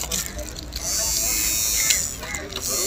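An electric hair trimmer buzzes steadily in a busy market stall, a close, bright, continuous whirr under nearby talk.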